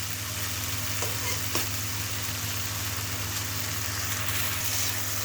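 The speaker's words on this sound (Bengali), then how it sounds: "রসুন আদা এখন সুন্দর করে আমি হচ্ছে কষিয়ে নিব।" Garlic, ginger and spices being stir-fried in a pan for a duck meat curry make a steady, close sizzle with a few soft stirring scrapes, loud and continuous with no talking.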